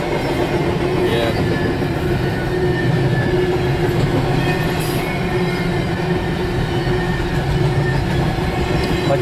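A Norfolk Southern freight train rolls past at close range in Duluth, Georgia, its wheels and cars producing a loud, steady rumble with faint wheel squeal and rail clatter that holds throughout, with no talking.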